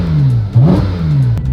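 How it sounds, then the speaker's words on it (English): Ferrari 458 GT3 Spider engine revving against a soft limiter, heard from inside with the window closed, a loud booming intake drone that rises and falls in pitch over a second and a half. "you can barely hear the exhaust and you can hear the booming sound of the intake"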